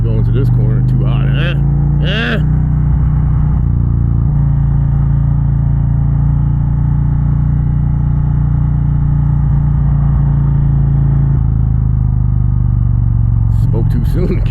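An Indian Challenger motorcycle with a Rinehart exhaust rumbles steadily while riding, a deep continuous low drone heard up close, with wind noise and a voice speaking briefly at the start and end.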